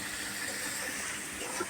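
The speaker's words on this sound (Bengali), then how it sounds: "ভালো করে কষিয়ে নিয়ে জল ঢেলে দেবো।" Water pours into a hot pan of frying egg curry with a steady, loud hissing sizzle that holds evenly throughout, with no talking over it.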